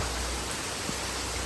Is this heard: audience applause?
no